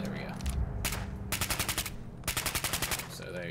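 Splatter cannon fire in a modded video game: rapid bursts of loud, evenly spaced shots, one short volley and then two longer rattling strings, close and dominant over game noise.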